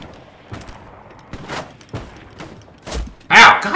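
Gunfire in Hell Let Loose hits a player, heard as a scattered series of sharp, close shots and thuds over a few seconds, ending in a louder blast.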